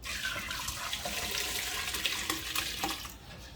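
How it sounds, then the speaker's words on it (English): Homemade beef bone broth pours steadily through a strainer for beef stew and soup starter canning, a continuous close splashing trickle with small drips and gurgles. "I'm going to start to pour this in here, just a little bit at a time"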